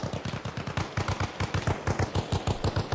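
Steady bursts of M60 machine gun fire in the military shooter Arma Reforger, a rapid rhythmic stream of shots, loud and close, running without pause and with no voices.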